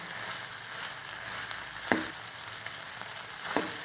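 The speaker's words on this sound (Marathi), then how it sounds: "फोडणीमध्ये आपण आता शिमला मिरची चांगली परतून घेऊ।" Finely chopped bell pepper sautéing in hot tempering oil, a dense close sizzle punctuated by two distinct spatula scrapes or stirs, no voices.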